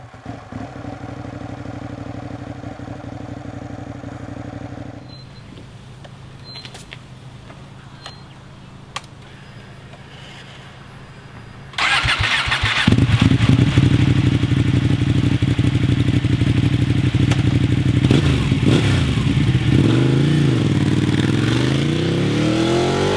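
A Ducati 899 Panigale sports motorcycle fires up, going from a quiet lull to a loud, close engine roar that holds steady with blips of revving, no talk over it.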